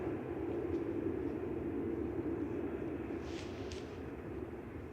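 A steady, distant roar from an airliner rolling down the runway after landing at Manchester Airport, broad and unchanging throughout, with a couple of faint higher squeaks near the end.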